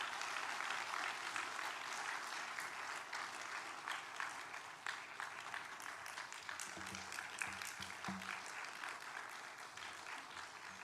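A church congregation claps steadily to welcome a speaker at a Friday worship service, a sustained, fairly faint wash of many hands with no pauses.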